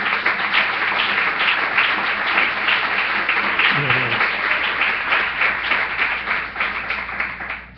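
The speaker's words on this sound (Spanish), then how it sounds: "démosle palmas al Señor" A church congregation claps together in steady, sustained applause, loud and close, filling the whole stretch with dense rhythmic hand claps.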